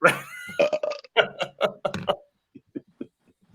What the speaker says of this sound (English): and then I loudly belch in the sewer elf form of greeting